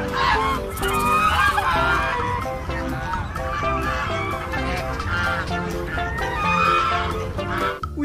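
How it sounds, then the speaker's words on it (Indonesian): A goose honks repeatedly, loud and close, in a busy run of overlapping nasal calls. "di sini ada angsa"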